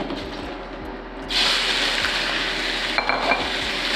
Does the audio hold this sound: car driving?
no